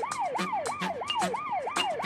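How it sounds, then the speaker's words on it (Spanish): Emergency vehicle sirens from a cartoon toy-train city scene wail in a fast repeating sweep, each rising and falling cycle about a third of a second long, steady and fairly clear with no talk. "no puede oírte porque las sirenas son muy fuertes"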